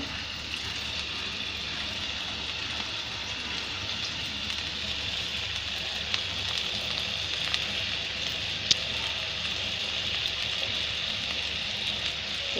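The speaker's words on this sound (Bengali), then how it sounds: "পরিমাণ মতো তেলের মধ্যে করলাটা দিয়ে দিলাম।" Bitter gourd with a small potato frying in oil gives a steady, even hiss and crackle that holds for the whole stretch, with a few faint pops and no talking.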